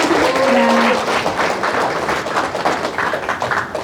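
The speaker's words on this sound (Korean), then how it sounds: "스승님께 큰 박수 부탁드립니다" Audience applause for a teacher at a lecture in Daegu, a steady wash of many hands clapping that is loud at first and gradually thins, with faint voices mixed in.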